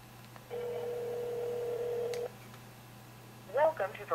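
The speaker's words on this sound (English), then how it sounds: "We can dial 611 and put on speakerphone." Dialing 611 on a Blackberry phone set to speakerphone gives a steady telephone tone lasting nearly two seconds over a low hum, followed by brief voice bursts from the line.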